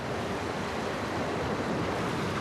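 Rough sea washes and churns steadily around a boat at sea in worsening weather, a loud, continuous broadband roar of waves and wind with no voices.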